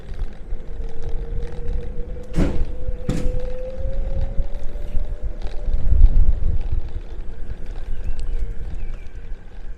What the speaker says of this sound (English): It's super windy, so I don't know if you can hear me at all.